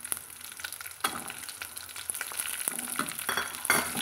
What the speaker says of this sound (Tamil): இது சின்ன வெங்காயம் நம்ம ஒரு கைப்பிடி அளவுக்கு போட்டுக்கலாங்க